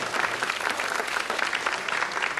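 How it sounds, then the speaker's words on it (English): A television game show studio audience applauds, a dense, even burst of many hands clapping close by for a couple of seconds. "Round of applause."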